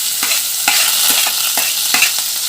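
Onion sizzles in hot oil with garlic and curry leaves while a spoon stirs it, giving a bright, continuous frying hiss broken by several scraping stirs close by.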